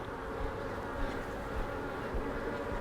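Honey bees hum steadily at an open hive while frames of field bees are worked, a dense, continuous low buzz that stays even throughout at moderate volume, with no voices.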